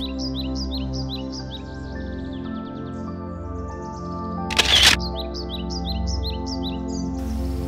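Birds chirp and tweet in outdoor nature, repeated bright calls throughout over a steady background hum, with a sharp camera shutter click partway through.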